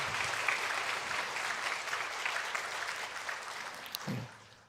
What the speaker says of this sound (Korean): 여러분 아멘 하고 박수 한번 이렇게 연습 한번 해볼게요